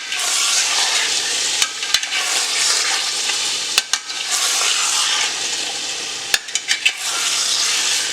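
Mutton with fat and spices sizzles as it is stirred in a handi for Azamgarhi mutton handi, a loud, continuous frying hiss punctuated by several sharp clinks of the spoon against the pot, with no talking.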